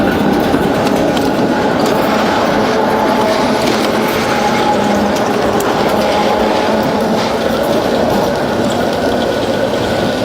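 A tram rolls along an Amsterdam street, a loud continuous rumble with metallic rail clatter and squeal, heard up close from a moving bicycle amid city noise.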